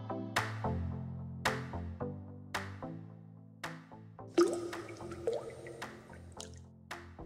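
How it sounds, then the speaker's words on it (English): A water drop sound effect, slowed down, plinks in a steady series of separate resonant drips, then a brief cluster of squishy, gurgling drops. Each one is close and clear, with no talk. "I slowed down the sound a bit so that the sound sounds beautiful with a drop of water."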